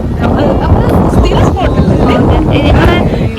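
Wind gusting steadily at a lakeside in the evening, a loud continuous rumble like wind buffeting the microphone throughout.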